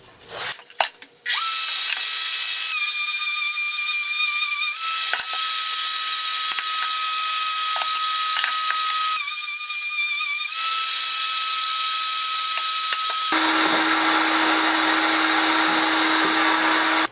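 A power saw cuts a channel for frames in a wooden board for an eight-frame medium honey super, giving a loud, continuous, close-up whine with tonal shifts for about sixteen seconds after a brief start-up.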